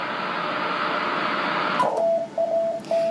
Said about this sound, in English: There's W1AW on 14 megahertz, and I did hear them also on 18 megahertz.